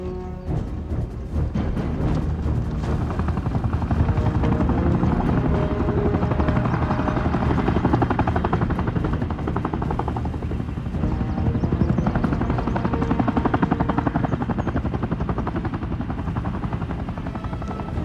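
A helicopter landing in a 1998 action thriller, its loud, close rotor beat thudding steadily with a churning engine roar that stays constant throughout.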